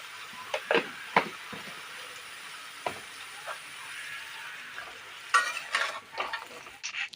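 Drumstick pods frying in a pan with a little turmeric powder, a constant oily sizzle under scattered scrapes and clinks of a spatula stirring, loud and close with no talking.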